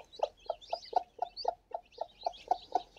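Hens clucking in a steady rhythm, about four clucks per second, close and clear with faint chatter of other birds behind, while newly hatched chicks emerge.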